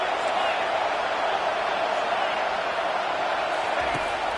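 A college football stadium crowd during the Buckeyes vs Crimson Tide game roars steadily on a big third down, a constant dense wash of cheering with no breaks.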